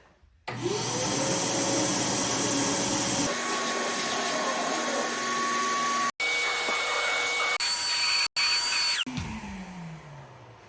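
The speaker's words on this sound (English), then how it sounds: "I'm gonna vacuum those off." A vacuum cleaner cleaning dusty window weather seals runs loudly and steadily up close, its whine shifting pitch as the nozzle moves, cutting out briefly twice before winding down at the end.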